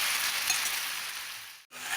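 Potatoes, slit green chillies and ginger-garlic paste frying together in a pan for a local chicken curry, a steady close sizzle that runs unbroken, dips out briefly near the end, then resumes.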